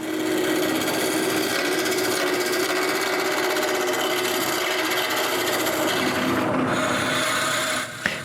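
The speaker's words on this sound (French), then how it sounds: "Après avoir coupé les 4 coins, je tourne un cylindre." A cherry wood cylinder spins on a lathe under a cutting tool, making a continuous loud rasping, scraping roar that stays steady and close throughout before briefly dropping at the end.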